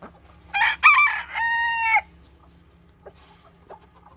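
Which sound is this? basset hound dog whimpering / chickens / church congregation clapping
chickens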